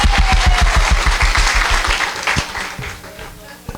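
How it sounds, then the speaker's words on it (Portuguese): Applause breaks out at a Portuguese-language talk, the audience clapping loudly and close for about two seconds before it thins out and fades while a voice speaks over it. "Por favor, muitas palmas."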